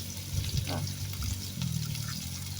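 Water runs and splashes into a cooking pan in a home kitchen, a steady close hiss and gurgle with a low background rumble, under occasional talk.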